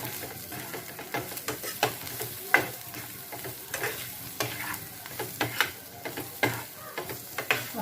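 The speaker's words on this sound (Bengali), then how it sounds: "পেঁয়াজটা আর মশলাগুলো ভাজা হয়ে গেছে" Onion with turmeric, Kashmiri chilli and coriander powder fries in a pan for Rajasthani gatte ki sabzi, a steady soft sizzle broken by repeated scraping, clicking stirs close up, with no talking.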